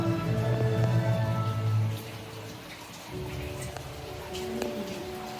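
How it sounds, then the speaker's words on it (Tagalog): Steady heavy rain pattering and hissing close by in Okinawa, with a low rumbling drone in the first seconds and a few louder drips throughout. "Grabe yung ulan"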